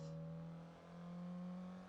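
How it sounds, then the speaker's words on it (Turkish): A Renault Clio Phase 1 engine and exhaust drone in the Assetto Corsa racing simulation, a steady low hum that dips briefly and rises again as revs change, sustained and quiet. "Araçta gerçek dışı görünen bir tek şey var şu an egzoz sesi"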